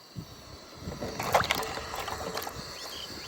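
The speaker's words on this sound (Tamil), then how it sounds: "அடுத்து நம்ம கலாக்காவை கொட்டிப்போங்க" Karonda berries (Carissa carandas) are tipped into a pot of water, giving a close cluster of soft splashes and sloshing that swells over about a second and then settles.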